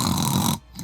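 A person imitates snoring with a rough, rattling vocal snore that rumbles loudly for about half a second and then stops.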